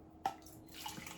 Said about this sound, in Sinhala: මේ අද උණු වතුර වලට දාලා හදන්නේ